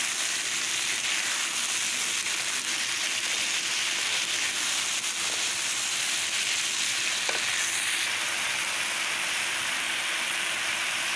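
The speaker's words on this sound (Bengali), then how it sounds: "এখন আমি বরবটি আর আলুটা দিয়ে দিচ্ছি, একেবারেই একটু ভাজা ভাজা করে নেব।" Long green beans and potato pieces frying in oil in a pan, a steady dense sizzle with a few faint stirring scrapes, continuous and close, with no talking.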